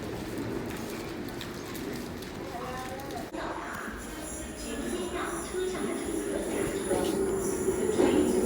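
MTR metro train at Sha Tin Wai Station rumbling along the rails with a steady low roar, a faint wheel squeal building toward the end, and muffled voices in the background.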